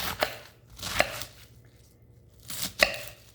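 Cabbage being chopped with a knife on a cutting board in a home kitchen: three sharp, separate strikes, spaced about a second apart, close and fairly quiet, with no talking.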